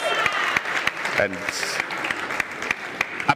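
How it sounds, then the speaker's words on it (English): An audience gives scattered applause for a woman president at an assembly, with distinct separate claps spaced out over the clip while a person talks. "A better round of applause for Madam President, please."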